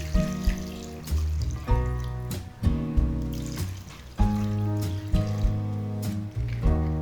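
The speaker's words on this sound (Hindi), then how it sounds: "दो गिलास पानी," Two glasses of water are poured into a cooking pot of meat for chatkara boti. The pouring comes in several loud bursts close by, each with a rising ringing tone as the pot fills.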